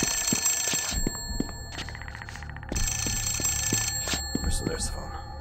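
An old-style telephone bell rings in the horror video game The Suffering: Ties That Bind, two loud, bright bursts of ringing separated by a short gap, with clattering game sounds and faint voices underneath.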